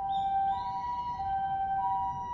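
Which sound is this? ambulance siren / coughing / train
ambulance siren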